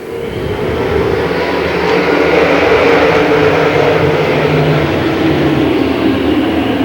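A pack of late model race cars roars away at the green flag on a dirt oval, a loud continuous broadband engine rumble filling the air at a steady level without talk.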